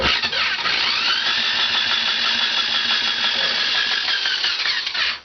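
Homemade three-cylinder radial engine built from Briggs 327 parts being turned over: a loud, steady mechanical churning and whirring that runs continuously for about five seconds, close up, with no talking.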